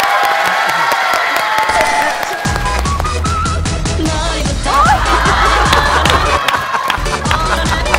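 Studio audience on a Korean SBS variety show bursts into loud applause and cheering, a dense crowd roar with rapid clapping that swells midway and runs continuously, with a few shouts and voices mixed in.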